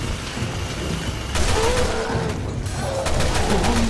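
Gunfire in the video game Resident Evil Revelations 2, loud bursts of shots and booms layered over continuous game noise, with no talking.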